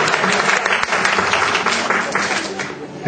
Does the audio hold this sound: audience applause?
yes